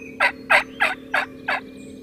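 Wild turkeys gobbling during a hunt, five quick, evenly spaced gobble bursts from a bird at moderate distance, with a faint steady hum underneath and no talking.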